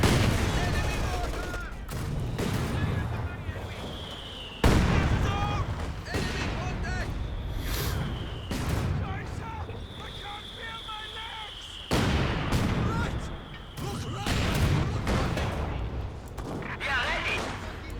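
Mortar shells slam into a half-track in the World War II strategy game Company of Heroes 2, a series of sharp booming impacts and gunfire bursts repeating through the battle while a commentator talks over it.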